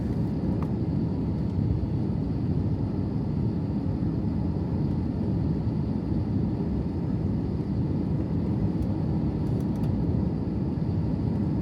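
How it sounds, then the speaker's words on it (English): Inside the cabin of a British Airways Airbus A380 on landing at runway 9 left, a loud, steady, broad engine and airflow roar that stays dense and unbroken throughout. "The landing, however, was a bit rough."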